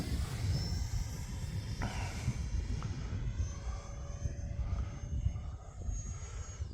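An Arrows Avanti 50mm electric ducted fan model jet flying in wind, a steady high whooshing whine with shifting pitch as it passes overhead, over constant low wind rumble and no speech.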